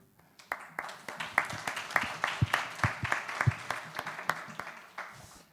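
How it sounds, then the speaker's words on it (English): A workshop audience applauds its speakers with steady, fairly faint clapping from a modest crowd. The clapping swells after a quiet start and fades out at the end. "For our speakers, I think we can already applaud them."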